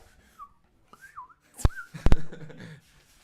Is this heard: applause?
no